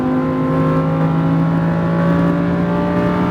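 Lamborghini Huracan V10 engine held at full throttle, a loud, steady, dense roar with rising harmonic tones and no pauses, heard up close with no talking.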